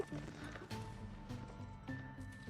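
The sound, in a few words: cavalry horses galloping in a video game battle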